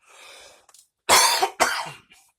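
A few sharp, harsh coughs close up, with a softer throat-clearing rasp before them, then silence.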